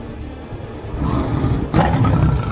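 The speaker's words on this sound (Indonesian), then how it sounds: "Suara macan." A tiger roars in a short, loud, rough burst that swells partway through and stays heavy and close for a couple of seconds, with no talking.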